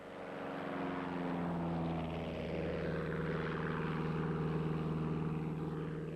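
Propeller airplane taking off, its engine drone swelling and holding steady at full power, loud and continuous, with no talk.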